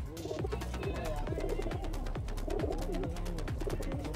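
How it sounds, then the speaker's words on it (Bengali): Black and red Giribaj pigeons coo in repeated swooping, throaty calls close by. Several birds overlap in a steady run, with a faint murmur of background noise. "টোটাল পায়রা স্ট্যান্ডিং আমি দেখাচ্ছি"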